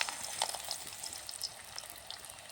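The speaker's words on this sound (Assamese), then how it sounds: "ইয়াৰ পিছত লুচিখিনি পুৰি আছোঁ। তেল দিছোঁ কেৰাহী।" Luchi puris frying in hot oil in a kadai, a soft continuous bubbling sizzle with small crackles, close and faint, no voices.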